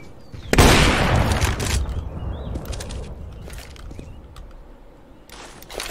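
A grenade exploding in a CS:GO match, one loud close blast with a long rumbling decay, followed by scattered sharp gunshots and faint in-game noise, no talk.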